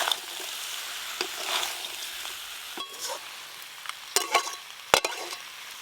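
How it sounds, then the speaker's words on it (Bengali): Fried eggplant, bitter gourd and lentil dumplings sizzle softly in a pan, a quiet steady crackle broken by a few sharp spoon scrapes and clicks. "এবার ভেজে রাখা বেগুন, করলা আর বড়ি দিয়ে দেবো।"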